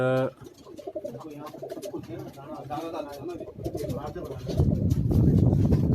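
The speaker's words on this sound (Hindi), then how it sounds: "बेइंतहा कबूतर हैं" Many pigeons on a Karachi rooftop coo repeatedly, a soft throaty burble, mixed with other bird sounds and a rising rush of noise toward the end.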